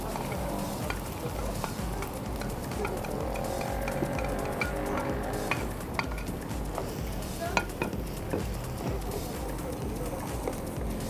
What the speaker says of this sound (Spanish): Aquí estamos sofriendo el ajo